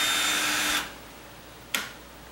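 A power drill bores into the corner of a rubbing door at a slight angle, a loud steady whine that stops abruptly partway through, followed by a short sharp knock.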